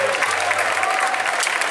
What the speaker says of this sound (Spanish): ¡Que aplaudís!